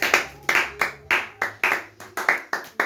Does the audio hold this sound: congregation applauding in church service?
yes